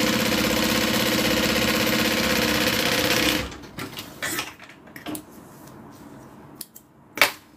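A sewing machine runs steadily while top stitching a purse, loud and close for about three seconds, then stops, leaving scattered clicks, fabric handling and a sharp knock.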